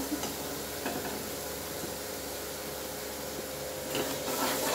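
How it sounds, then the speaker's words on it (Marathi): Mutton masala roasts in hot oil until the oil separates, with a continuous close sizzle and soft scraping stirs throughout that swell slightly louder near the end. "असं तेल सुटेपर्यंत मसाला छान भाजून घ्यायचा"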